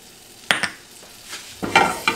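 Butter melts in a pan for a sauce after pan-searing salmon, with a soft sizzle broken by a few sharp utensil scrapes and clinks against the pan.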